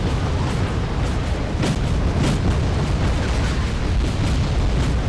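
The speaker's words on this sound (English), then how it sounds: "The first units to engage are Tarask's anti-air artillery, which shoot on the ground units." Anti-air artillery in a strategy video game fires at ground units with a loud, continuous rumble of rapid blasts, with a few sharper bursts standing out along the way.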